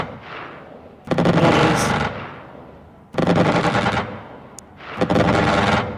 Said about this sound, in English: Send out 2 more missiles.